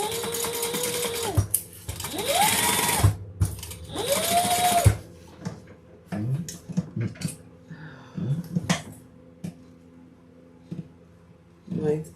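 A sewing machine stitches a bag seam in three quick close whirring bursts with rising and falling motor pitch, followed by scattered clicks and handling noises, with a person talking in the quieter stretches.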